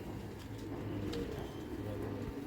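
Soft, low pigeon cooing repeats a few times amid a murmur of background noise and faint distant voices.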